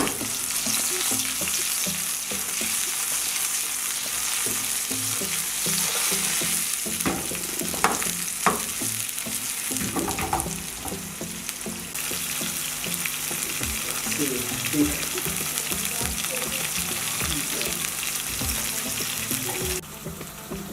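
Mushrooms and garlic frying in a pan as leek pasta is cooked, a steady close sizzle with occasional stirring clatter and a brief watery note, no talking.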